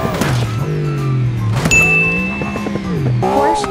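A Bugatti in BeamNG.Drive revs with a rising and falling engine tone, punctuated by sharp thunks as it strikes a hydraulic ramp, loud and close, with no voices.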